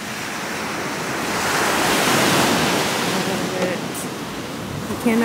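Ocean surf on a Hawaii beach rushes steadily in a broad, loud wash, swelling and easing as waves roll in, with a little wind noise on the microphone.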